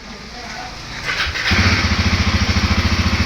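Royal Enfield Himalayan 450 motorcycle engine cranks over and fires up at about 1.5 s, settling into a loud, steady pulsing idle close by after a brief rough start.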